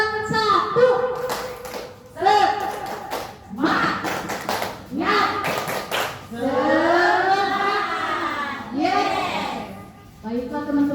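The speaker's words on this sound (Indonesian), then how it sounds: "Ayo kita tepuk dulu ya. Tepuk tangan 1." About ten workshop participants do a rhythmic group clapping chant: bursts of hand claps come between loud chanted and sung voice lines, with the clapping mixed under the vocals.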